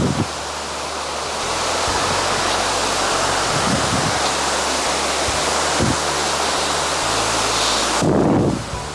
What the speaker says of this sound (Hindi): ये कमला टू वाटरफॉल है